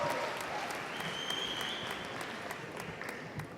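Applause at a university business school graduation ceremony, honouring baccalaureate graduates, a soft, distant wash of clapping from a seated audience that stays steady throughout, with faint voices underneath.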